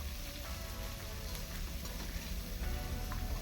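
Loud, dense sizzling of chopped onions frying in a hot pan, a continuous crackling hiss with small pops, no voices.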